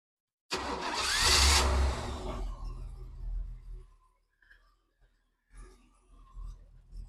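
Chevrolet Corvette C4 with a custom fabricated exhaust cranks and fires up loudly, a sharp rising burst of engine roar settling into a rumbling idle with revs that fade and return.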